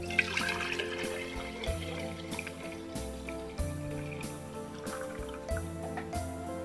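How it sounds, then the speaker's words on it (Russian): Warm milk poured from a pot into a glass jar, a steady liquid stream with gurgling and small splashes throughout, no speech. "И переливаю молоко в банку."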